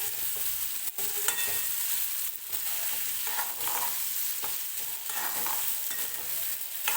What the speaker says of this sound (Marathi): वांगे जे आहे ते मी असंच तेलामध्ये परतून घेणार आहे